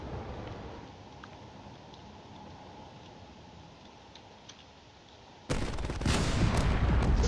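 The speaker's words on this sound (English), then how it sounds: "now it's going to begin firing away all of its missiles" A cruiser fires its missiles in a space battle video game: a steady low rumble with faint ticks gives way to a sudden loud, dense barrage of launches that continues to the end.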